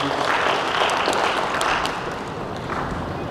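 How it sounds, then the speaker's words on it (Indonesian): Applause fills a wedding blessing ceremony, a dense, steady wash of many hands clapping together that runs throughout and eases slightly toward the end. "Beri tepuk tangan buat kesediaan Abraham."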